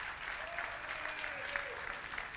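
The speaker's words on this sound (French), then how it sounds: "vos applaudissements sont à la fois les bienvenus et vos encouragements aussi" Applause from an audience at a political session, brief, fairly faint steady clapping with faint voices in the background.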